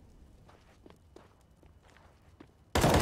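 An opponent's footsteps on the Dust2 map in Counter-Strike come as a series of soft, evenly spaced steps at moderate distance, followed by a sudden loud burst at the end.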